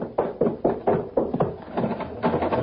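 In an old-time radio murder mystery, someone knocks on a locked maid's room door: a run of about eight firm knocks at a quick, uneven rhythm, close and loud, with no talk.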